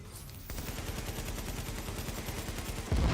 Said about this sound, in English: Oh, I just threw that nade at myself.